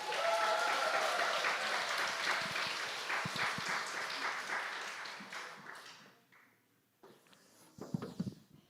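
A church congregation at a presbytery camp forum applauds to welcome a pastor, the clapping full and steady at first, then thinning out and fading to near silence, with a few faint stray sounds afterward.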